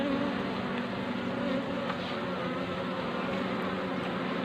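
Honey bees buzz at artificial hive frames full of fresh comb. The drone is steady, dense and close, a continuous hum throughout with no speech over it.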